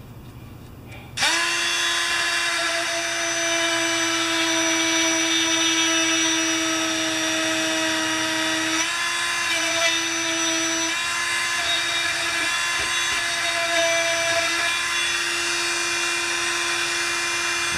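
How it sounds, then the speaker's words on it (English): A small grinding bit on a rotary tool grinds down a broken plastic coil flange, giving a loud, steady high-pitched whine that runs continuously for many seconds with slight pitch shifts as it bites into the plastic. "So I need to take the little grinding bit."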